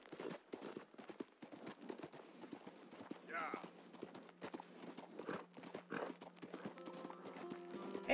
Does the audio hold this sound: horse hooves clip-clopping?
yes